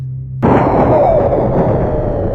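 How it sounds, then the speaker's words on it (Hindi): A huge explosion blasting apart a mountain in Norway during cutting for a metro station, as a horror-movie effect: a sudden, very loud blast followed by a heavy, sustained roaring rumble that slowly fades. "जोरदार विस्फोट पहाड़ के टुकड़े टुकड़े कर देता है"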